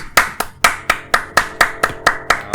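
Steady, evenly spaced hand claps, about ten of them in quick rhythm, loud and close with nothing else around, during a Counter-Strike: Global Offensive 5v5 match.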